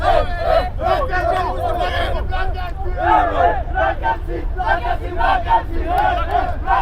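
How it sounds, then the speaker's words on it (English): Soccer fans of a Division II Reserve championship team chant after the final win, a loud, close crowd of voices rising and falling in repeated rhythmic phrases, with shouts and babble mixed in throughout. "You can hear the chants."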